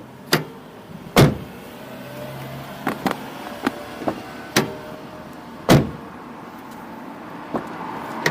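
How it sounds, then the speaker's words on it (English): Doors on a Mazda MX-5 Miata fitted with Delrin door bushings are shut repeatedly, giving several sharp thuds of varying strength spread over the stretch, the two heaviest slams standing out, close by with no talk. "we shut the door again just to check"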